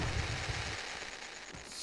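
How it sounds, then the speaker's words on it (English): Fireworks going off in Farming Simulator 2013, a burst of rapid crackling pops in the first moments that quickly fades into a quieter hiss. "is there only one kind of firework? And that looks like it's it."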